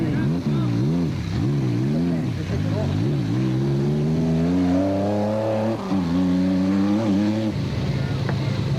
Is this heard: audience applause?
no